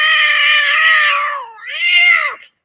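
Recorded cat meows played back, two drawn-out meows, the first long and falling, the second shorter and rising then dropping, loud and close with no talking.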